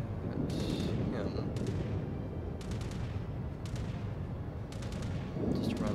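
Heavy battleship main guns boom in a World of Warships naval battle as the US North Carolina fires, several deep blasts at irregular intervals over a constant low rumble of ocean and engine noise.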